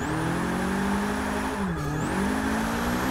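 A car engine revs in a racing video game played with a Logitech G920 wheel and hydraulic handbrake, its pitch climbing, dipping briefly and then rising again as a steady, loud whine with no talk.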